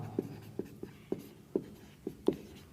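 Pen strokes writing out a physics question by hand, seven short distinct scratches at a steady pace, close and fairly quiet, with no talking.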